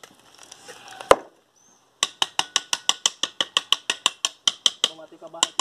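A concrete block-making machine demolds freshly formed cement blocks, giving a brisk, steady series of loud metallic clacks after a single sharp knock and brief pause, with faint voices early on.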